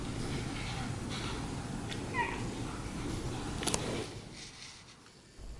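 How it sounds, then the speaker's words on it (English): A cat meows very softly indoors, one or two faint, brief calls that sit low under a steady hiss of background noise, distant and barely above the room sound. "she meows so quietly that I actually had to up the volume for this"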